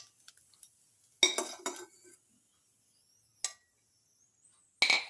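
A metal cooking pan is lifted off the stove, making several sharp metallic clinks and clanks in separate bursts with quiet gaps between them, close by and without speech.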